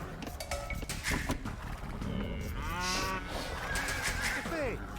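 A cow moos in Age of Empires II, a drawn-out lowing call in the middle of the clip, amid game clicks and other farm-animal sounds, with no one talking.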